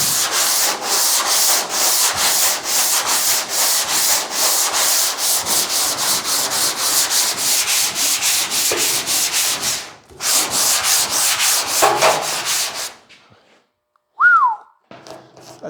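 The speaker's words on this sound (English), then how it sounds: "I'm gonna take the sanding block" Steady, rhythmic rasping of a sanding block scraped back and forth over a dented metal car body panel, close and loud, stopping near the end with a brief squeak.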